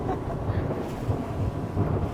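An Italboats Stingher 28 GT motorboat engine drones steadily at about 50 knots, mixed with rushing wind and water noise, loud and close throughout.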